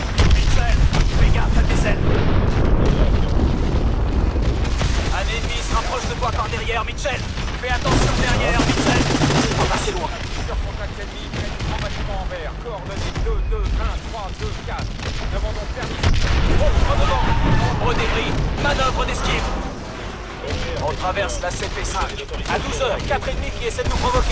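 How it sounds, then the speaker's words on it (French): Call of Duty: Advanced Warfare combat: rapid gunfire bursts and booming missile launches and blasts at a dam, loud and continuous, with voices speaking over the action. "On approche du barrage tire dessus avec tes missiles."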